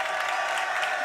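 Audience in a venue for a gaming cup final applauding steadily, a dense wash of clapping held at a moderate level without pauses.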